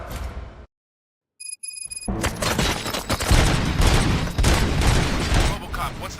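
Heavy gunfire in the video game RoboCop: Rogue City, with a dense, loud fusillade of rapid shots and booms that follows a brief silence and electronic beeps. A voice speaks briefly in the mix.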